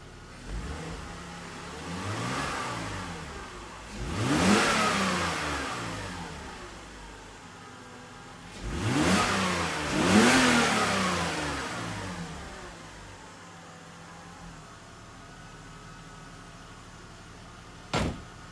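Engine of a 2002 BMW E46 320Ci idling smoothly, heard from inside the car, with two rising revs that swell and fall away, then a brief sharp click near the end.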